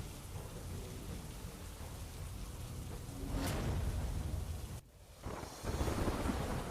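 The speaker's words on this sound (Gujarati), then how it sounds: "ગાજવીજ સાથે મોડાસામાં વરસાદ વરસ્યો" Heavy rain pours steadily in Modasa, with rolling thunder swelling midway and a sharp crack of thunder near the end over the constant downpour.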